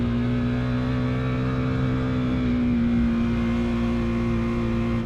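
A Husqvarna Svartpilen 401 motorcycle taking a twisty corner, its engine holding a steady droning hum with a slight swell in revs midway, heard from on board under constant wind rush.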